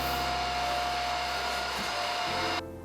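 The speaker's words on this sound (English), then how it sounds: "I'm actually gonna grab my vacuum cleaner and clean out the little like crumbs and dust that's in here." A vacuum cleaner sucks crumbs and dust out of a drawer with a loud, steady whining drone close by, which shifts slightly near the end before powering down.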